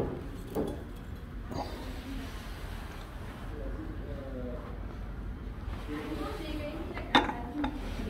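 Gold-rimmed porcelain dishes from a service set clink softly now and then, a few sharp chinks against a low background murmur at a German flea market.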